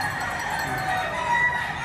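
A four-year-old pure black rooster at the Padre Garcia auction market clucks and calls, loud and close, over a busy background hum.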